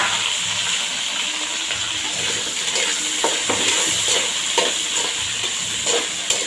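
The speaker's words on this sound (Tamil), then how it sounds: "வெண்டைக்காய் நல்லா வதங்கிட்டு இருக்கட்டும்" Sliced okra sizzles loudly and steadily in hot oil with mustard seeds and cumin, the dense frying hiss broken by occasional stirring scrapes and spits close to the pan.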